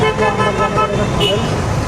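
Busy street traffic in Kathmandu, with a car horn tooting over a steady roar of engines and crowd noise, and voices talking close by.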